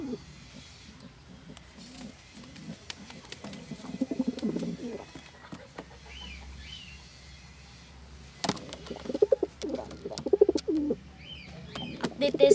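Soft pigeon coos repeat in short low phrases, fairly close, with occasional chirps and scattered bumps and rustles around them.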